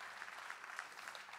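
An audience claps steadily and fairly softly through the whole stretch at an awards ceremony.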